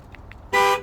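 A 2011 Ford Crown Victoria Police Interceptor gives a single short, loud horn chirp on being locked by remote, preceded by two faint electronic beeps.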